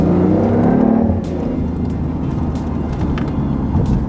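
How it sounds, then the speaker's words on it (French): BMW i8 supercar engine, 374 horsepower, droning loudly up close as the driver downshifts into second gear, with a steady low hum and a slight swell in the first second. "Là j'ai rétrogradé trop fort, tu vois."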